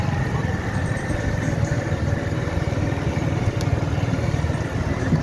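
A motorcycle rides along a sandy beach in Karachi, its engine a steady mid-pitched drone that runs continuously with wind and surf noise mixed in.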